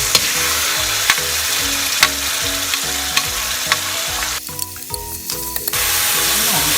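Rice noodles stir-fried in a wok with garlic and oyster sauce for pork gravy noodles: loud hissing sizzle under rhythmic spatula scrapes and knocks, briefly quieter near the end before the sizzle swells again.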